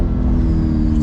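A 2021 C8 Lingenfelter Corvette engine rumbles loud and close in a short burst as it downshifts, a deep continuous roar with rising and falling pitch.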